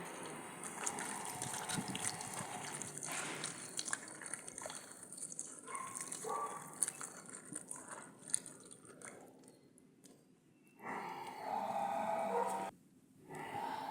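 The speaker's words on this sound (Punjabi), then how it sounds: "ਪਾਣੀ ਚ ਪਾ ਕੇ ਪਾਣੀ ਪਾ ਦੇਾਂਗੇ ਧੋਵਾਂਗੇ ਚੰਗੀ ਤਰ੍ਹਾਂ" Cauliflower being washed in water for village-style pakoras gives faint, intermittent splashes, drips and sloshing of hands working the florets, close by, with a louder gush near the end.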